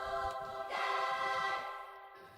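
A sampled Bulgarian choir from a sample library sings a sustained, harmonically rich vocal chord that swells and then fades softly, alone over a quiet background.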